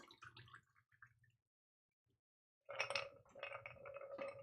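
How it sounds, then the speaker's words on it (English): A cocktail pouring from a Yarai mixing glass, with a soft liquid trickle and light glassy clinks building after a brief pause, close and moderately loud. "Pouring right from our yakai."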